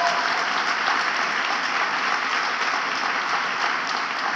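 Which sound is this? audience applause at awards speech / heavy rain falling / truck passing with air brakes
audience applause at awards speech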